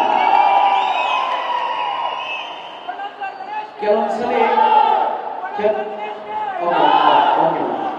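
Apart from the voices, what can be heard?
crowd cheering and chanting hails at a film event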